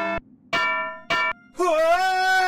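Three bright, clanging bell tones from the video game Edna bricht aus, each strike ringing briefly before cutting off, followed by a longer sustained ringing tone at the end.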